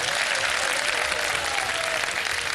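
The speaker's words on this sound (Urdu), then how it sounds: "تالیاں بجا دیں جی" Audience applause at a quiz-style poetry game show, a steady dense wash of clapping that fills the whole moment without pause, loud and close with a faint murmur of the crowd underneath.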